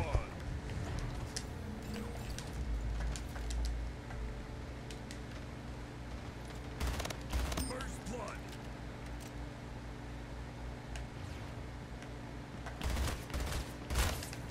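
Bursts of gunfire in the arena shooter Splitgate, with sharp shots scattered through the clip over game noise while a person talks.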